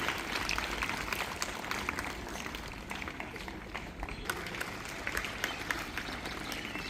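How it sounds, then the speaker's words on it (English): Many hands clap continuously at a school prize ceremony honouring top students, a fairly faint, even patter of audience applause heard from within the hall. "Keep clapping."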